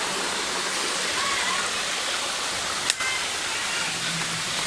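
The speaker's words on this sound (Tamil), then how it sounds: "இங்கே பாருங்கள், குட்டி நீர்வீழ்ச்சி" A small hidden waterfall in Andhra Pradesh gives a constant loud, hissing rush of falling water from nearby. There is one brief sharp knock partway through.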